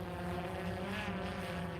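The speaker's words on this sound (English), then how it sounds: "Oh, here's our second drone right now." A small police drone hovers overhead near an armored vehicle during a manhunt, giving a steady, continuous buzzing drone with harmonic whine, moderately close and unbroken throughout.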